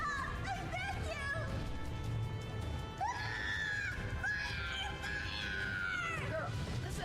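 Screaming battle cries from the video game Drakengard 3 rise in long, shrill, wavering wails over a dense, continuous din, loud and sustained for several seconds.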